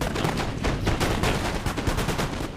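Musket volleys in the Napoleon Total War game, a dense crackle of many overlapping shots rippling along a firing line with repeated sharp bursts, steady and fairly loud with no voices.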